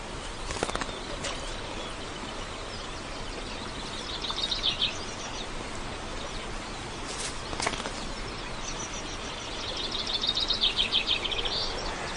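A young cuckoo chick in a warbler nest gives rapid, high-pitched begging calls that come in two bursts over a hissing background, moderately close with no talk.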